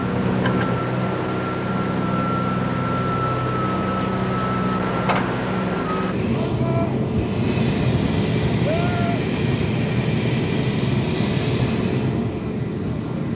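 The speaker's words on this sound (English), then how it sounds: "This Catalina is amphibious, and now we prepared for our first dry landing." A Catalina amphibious flying boat's engines drone steadily and loud, shifting to a rougher, brighter roar partway through as the aircraft comes in for a dry landing at Abu Simbel.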